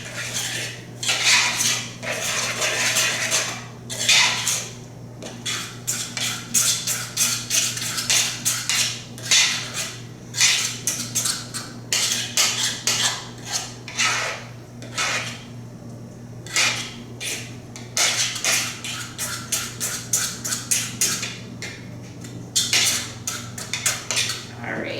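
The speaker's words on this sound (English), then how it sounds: "now you're going to mix the ingredients together" Infant pancake batter with rice cereal mixed in a bowl, a rapid run of utensil clinks and scrapes against the bowl in uneven bursts, close and continuous with short pauses.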